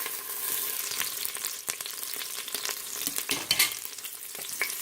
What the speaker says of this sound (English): And let it saute.